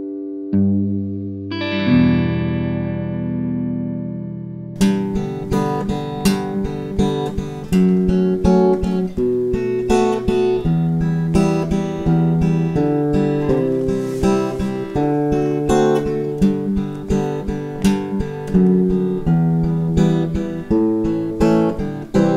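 Guitar playing the chord progression of a song through an effects unit: a sustained opening chord, then steady rhythmic chords continuing for about twenty seconds, with no talking.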